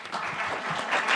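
Audience at a municipal council meeting breaking into brief applause, a short burst of close, dense clapping from the public.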